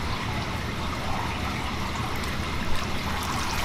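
Water trickling and sloshing in a dip tank as a Jeep JL grill is lowered at an angle for carbon fiber hydro dipping, a steady close wash of liquid noise throughout.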